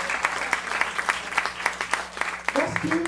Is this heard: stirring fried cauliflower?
no